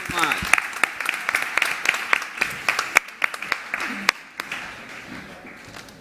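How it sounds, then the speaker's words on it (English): A conference audience at the South Summit 2022 playground stage applauds, a scattered patter of claps with several sharp close hand claps standing out, thinning toward the end while a voice speaks over it. "Big applause."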